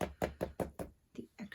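Mixed media cover tapped against a surface to knock off extra material: about seven dull, close knocks, five in a quick even run, a brief pause, then two softer ones.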